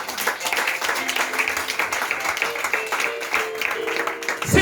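A church congregation applauds in praise during a sermon, steady dense clapping sustained throughout with faint voices and tones beneath.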